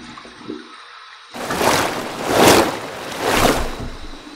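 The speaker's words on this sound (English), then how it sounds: "Here's my warm water rinse." Warm tap water splashing and running during a post-shave rinse, coming in three broad swells of splashing after a brief quiet start, close and fairly loud with no talking.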